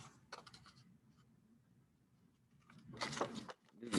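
Scissors cutting paper buildings out of a sheet, heard as a few close, crisp snips and rustles, with a quiet lull in the middle and a louder burst of cutting near the end.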